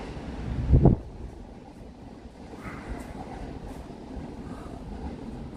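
A train rumbles at a Tokyo station platform, with a heavy low thump near the start that gives way to a steady, muffled rail hum and wind noise, and no talking.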